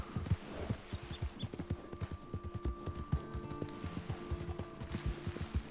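Horse hooves clip-clop steadily in Red Dead Redemption 2, a close, rhythmic run of hoofbeats over game ambience with no talking.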